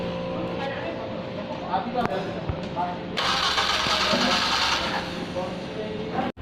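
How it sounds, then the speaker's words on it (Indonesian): Car engine cranking and catching during a tune-up before a gas analyzer emissions test, a steady running rumble with a louder surge midway, heard under speech in a workshop. "Oke, kita hidupkan mesin."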